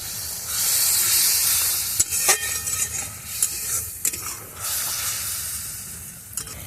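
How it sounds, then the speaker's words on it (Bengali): Spice paste fries and sizzles in a pan for a vegetarian brinjal curry as a spoon stirs it, a steady close hiss broken by scraping and clinking strokes against the pan. "এবার বাটি ধুয়ে একটু জল দিয়ে দেবো আর মশলাটা ভালো করে কষবো"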